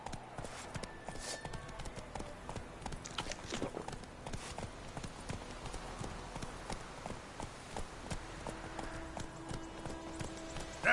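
Roach, a horse in The Witcher video game, trots with continuous rhythmic hoof clip-clops, close and steady, alongside ambient game sounds.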